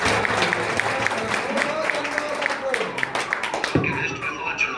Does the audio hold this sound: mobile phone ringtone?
no